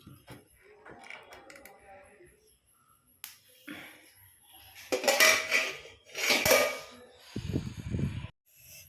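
Metal pots and dishes clank and knock against each other during washing, a few bursts of loud clattering and scraping with quiet gaps between, near and intermittent.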